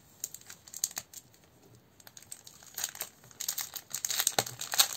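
Textured linen cardstock crinkles and rustles as hands handle it, giving close, irregular bursts of crisp crackling that get busier and louder toward the end.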